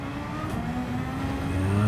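A race car engine in Gran Turismo 7 holds full throttle, a steady loud drone with rising pitch as it accelerates, continuous and alone with no talk.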